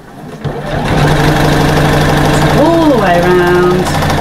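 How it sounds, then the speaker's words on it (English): A sewing machine runs slowly as its needle stitches through several layers of fabric for a bag, making a steady mechanical hum close by while a voice talks over it. "You can see I slowed my machine right down just to make sure that the needle goes through all the layers"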